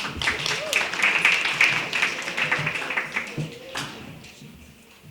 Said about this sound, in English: So please give her a round of applause.